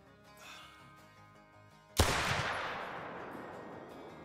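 A single loud gunshot from a 45-70 break action pistol bursts out in the hunting game Call of the Wild, fired at a stag from 200 yards, after a quiet stretch, with a rumbling tail that fades slowly.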